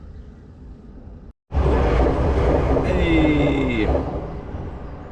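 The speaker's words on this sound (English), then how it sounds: "That's a small train." A short two- or three-carriage train rumbles loudly past close by, with a level-crossing bell ringing and a horn tone partway through; someone briefly calls out.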